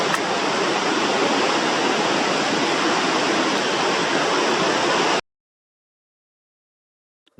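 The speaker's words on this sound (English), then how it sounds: "A silver waterfall tumbling down like draped curtains, making a loud, deafening sound, and the wind adding to the effect" Lingamala waterfall in Maharashtra, India, during the monsoon, roaring with wind: a steady, loud, dense broadband rush lasting about five seconds, then cutting abruptly to silence.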